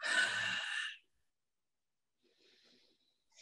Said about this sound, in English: So if you're trying to stretch out the ribs and then breathe out.